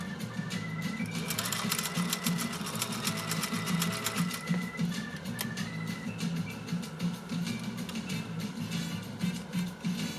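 A 1930s GE Model A sewing machine stitching in fast, continuous rapid ticks, with a brief pause and restart midway, fairly close and alone without talk.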